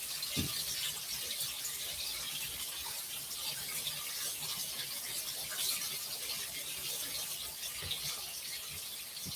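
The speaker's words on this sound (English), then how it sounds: "let me wash my hands" Hands washed under a running kitchen tap, a faint steady hiss of flowing water with a few small splashes, quiet and without talk.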